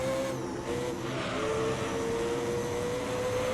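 Race car engine from the video game Gran Turismo 3, a steady loud droning whine with a sustained pitch that rises slightly, running continuously without talk.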